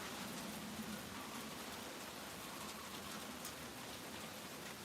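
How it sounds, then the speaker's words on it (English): Steady rain patters on a workshop roof, a dense, even hiss of drops that stays constant throughout, fairly quiet and without voices. "Can you hear that rain? That's on the roof of my workshop."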